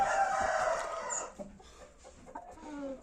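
A young rooster crows, a short rough call near at hand with clucking fowl around it in a village yard.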